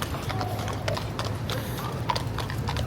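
Mounted police horses clip-clop along a São Paulo street during a street event, with steady, fairly close hoofbeats over low city hum and faint background voices.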